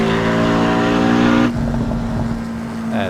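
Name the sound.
Porsche Cayman S engine at Nurburgring in Assetto Corsa video game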